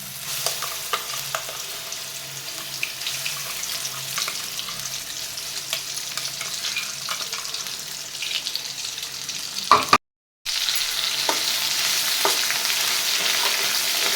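Masala roasts in hot oil in a kadhai, a close, steady bubbling sizzle with light spatters and occasional stirring scrapes, briefly cut silent midway before resuming slightly louder.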